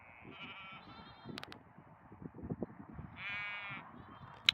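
Sheep bleating in a field near an old colliery in Northumberland, several wavering calls at moderate distance, with quieter rustling and a crow cawing faintly in between.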